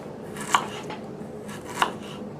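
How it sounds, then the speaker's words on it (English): A knife slicing through cauliflower on a cutting board, two distinct crisp cuts about a second apart, close and clear against quiet room tone. "We're going to take our knife and just come in and make large little slices like that."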